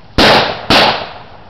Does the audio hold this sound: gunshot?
yes